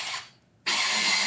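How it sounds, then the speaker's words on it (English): An electric pencil sharpener grinds a pencil in two loud, close whirring bursts split by a brief pause, the second burst steady and sustained, with no talking over it. "He uses a pencil sharpener in the background. An electric pencil sharpener."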